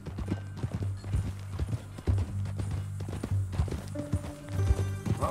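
A horse's hooves clip-clop at a steady walking pace in Red Dead Redemption 2, close and fairly quiet, with a few faint harness jingles.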